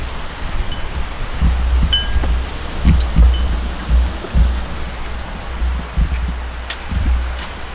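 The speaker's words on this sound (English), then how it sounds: "we're getting a good rain. Lots of wind." Rain falls outdoors on a very windy day, a constant hiss with low gusty rumbles of wind buffeting close to the microphone and occasional faint tinkling in the background.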